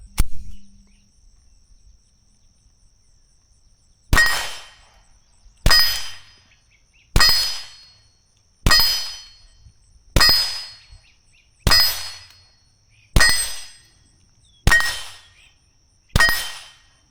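PMC Sidewinder .22LR rounds fire through a TX22 pistol fitted with a Lone Star Scoundrel suppressor, nine sharp, evenly spaced suppressed reports, each ringing briefly before decaying, preceded by a quiet pause.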